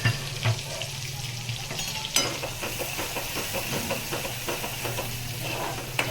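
Chopped tomatoes and crushed garlic fry in a pan with a steady close-up sizzle, broken by scraping stirs and a sharp clatter midway.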